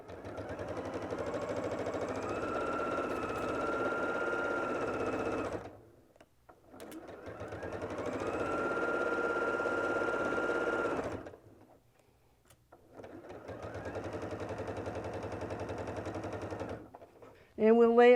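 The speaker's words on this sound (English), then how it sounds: "we'll sew the strip to this one" Sewing machine stitching quilt fabric strips, three steady runs of close mechanical whirring, each several seconds long and split by short pauses, with a voice briefly at the end.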